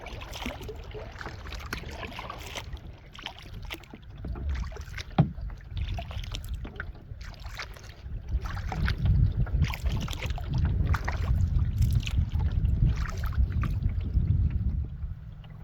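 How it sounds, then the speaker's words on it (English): Paddle strokes splash rhythmically beside a canoe on a calm lake, with soft wind on the microphone; the strokes grow heavier in the second half. "and Chris and Kittima are about to start paddling out."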